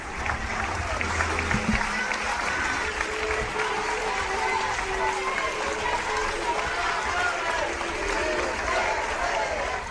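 Housing activists and people affected by evictions applaud after a film screening about evictions, a dense, steady wash of clapping from a crowd filling the whole stretch, with some voices mixed in.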